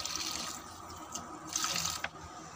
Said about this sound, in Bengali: এই যে গাছটা লাগানোর পরে দেখো এই যে এখন জল দিচ্ছি